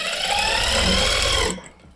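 A sewing machine stitches a seam on a gents kameez, running steadily and loudly for about a second and a half before stopping abruptly and fading out.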